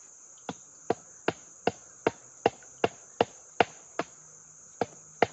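A hammer strikes a #5 trap being set outdoors, about a dozen sharp, evenly spaced blows at close range, while a steady high insect trill carries through the background.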